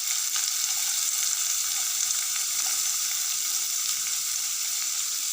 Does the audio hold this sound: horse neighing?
no